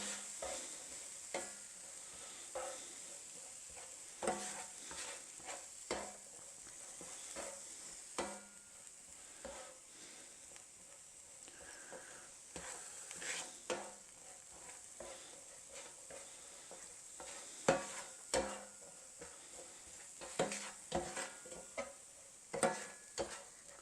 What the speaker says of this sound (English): And now we're just going to stir it until you get a really strong smell of those herbs